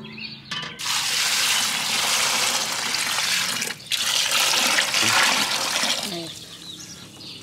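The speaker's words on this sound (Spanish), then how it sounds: "Ya le pongo el agua, ¿verdad?" About three litres of water poured into a barbacoa pot for lamb consommé, a loud continuous gushing splash in two long pours separated by a brief pause, with faint voices underneath.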